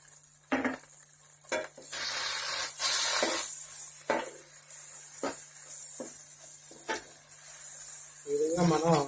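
Two tablespoons of ginger garlic paste sizzle steadily in hot oil with spring onions while making a small fish curry, broken by repeated stirring scrapes, with a brief voice near the end.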